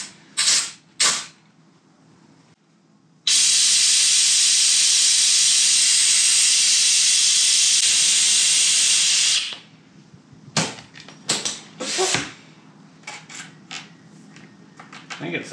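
A compressed air hose gives a loud, steady hissing blast of about six seconds while a generator stator and rotor are taken apart. Short clicks, clunks and a few spoken words come before and after it.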